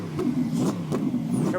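A Mercedes GT3 race car on full slicks at Blyton Park revs in pulsing bursts from moderate distance, its engine note rising and falling several times.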